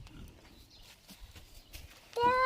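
A horse in a village gives a clear neigh at the end, loud and near, after a stretch of quiet outdoor shuffling and faint knocks.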